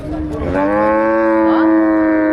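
A single long, loud moo from a Holstein Friesian dairy cow, with a rich harmonic tone, held steadily for over two seconds, close by with no talking.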